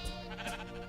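Sheep in the blocky survival game TerraFirmaCraft bleat in quick overlapping wavering cries, near and steady, with other flock calls layered behind.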